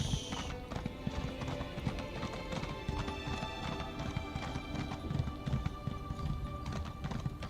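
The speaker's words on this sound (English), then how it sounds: "Okay, we shall grab our horse." Horse hooves clip-clop in a rapid galloping rhythm while riding in the Elder Scrolls Online game, steady and clear with no talk over them.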